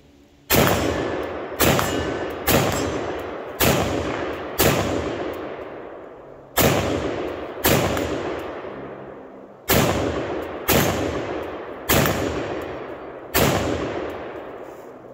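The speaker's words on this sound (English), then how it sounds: "I'm going to verify that this pistol actually works. Got 10 rounds in this magazine." A pistol built on an Aero M4E1 lower fires a ten-round magazine, with loud, sharp single shots at slightly uneven intervals of about one to two seconds, each followed by a short ringing decay.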